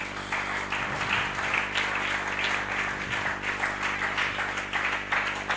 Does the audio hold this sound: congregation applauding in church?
yes